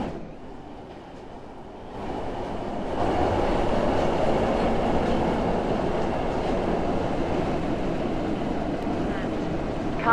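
A two-coach Class 156 diesel train in the Roblox rail game Stepford County Railway rumbles along, a steady dense roar that swells after a quieter start and holds without break.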